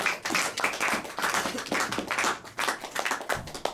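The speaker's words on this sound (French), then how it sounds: "Let us clap for him." Congregation in a church service clapping together, a continuous dense patter of many hands at steady moderate volume, with pulsing swells and no voices over it.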